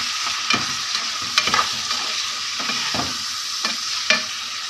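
Liver and gizzards with hot chili and pomegranate molasses frying in a pan, a loud continuous sizzle broken by several scraping, clacking stirs of a utensil against the metal.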